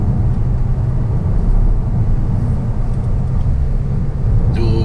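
A 2020 Toyota Corolla climbing a steep hill road in third gear, heard from inside as a steady low engine drone and road rumble, with no talking.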